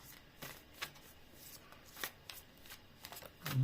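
Playing cards being shuffled in a few quick riffling bursts, close up and fairly quiet, with short pauses between them.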